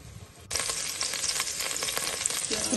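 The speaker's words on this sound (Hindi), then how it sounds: "प्याज को ऐड करने के बाद हमने इसको सॉटे करना है अच्छी तरह से" Chopped onion sizzles and fries in hot oil for a Pakistani qeema macaroni dish, a steady close crackle that kicks in sharply after a brief quiet start and holds loud throughout, with faint stirring.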